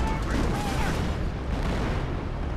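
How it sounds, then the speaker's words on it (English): Rocket barrage in the Company of Heroes strategy game, a dense rumbling roll of overlapping blasts and booms filling the whole stretch, loud and continuous with a faint voice beneath. "Oh, that's a rocket barrage."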